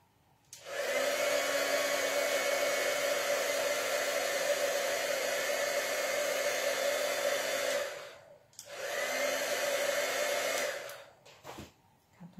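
Heat tool reheating embossing powder, blowing as a steady close whirring roar for about seven seconds, then a brief stop and a second, shorter blast.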